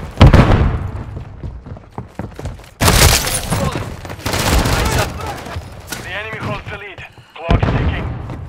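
A stun grenade goes off amid a loud, dense firefight in Call of Duty: Modern Warfare III, a sharp burst landing near the three-second mark over rattling gunfire, booms and shouted callouts.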